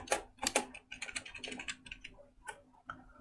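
Quick bursts of keystrokes on a computer keyboard as a search term is entered in the Chrome web store, crisp, close clicks in an uneven rhythm with short pauses between groups, fairly quiet and with no voice.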